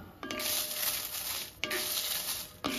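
Urad dal and dried red chilies fry in a pan, giving a steady, bright sizzle close up. A few sharp scrapes break in as the pan is stirred.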